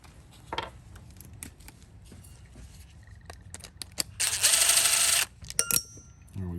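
Tool loosening and pulling the last bolt from a TroyBilt/Craftsman/Murray lawn mower carburetor, a few scattered clicks and metallic taps, then a loud one-second burst of ratcheting or whirring, close by, with no talking.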